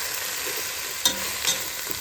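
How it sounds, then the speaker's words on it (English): Sweet potato, onion and jalapeno pieces cooking in a pot, a soft steady sizzle with a couple of brief utensil taps. "So the sweet potatoes, the onions, and the jalapenos have been cooking for just over 10 minutes."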